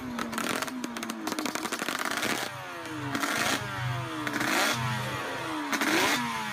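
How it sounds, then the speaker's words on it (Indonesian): A two-stroke motorcycle engine runs close by, blipped repeatedly so its pitch climbs and drops in a series of sharp revs over a steady idle, loud and alone with no voices. "itu jelas ya, motor 2 tak"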